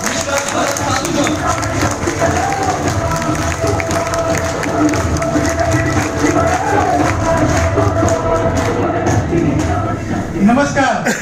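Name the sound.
audience applause welcoming a speaker on stage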